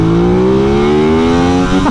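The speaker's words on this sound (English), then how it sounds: "It revs really quickly." A 2021 Aprilia RS660 sportsbike engine revs loud and close, its pitch climbing steadily in one smooth, quick sweep with no talk over it.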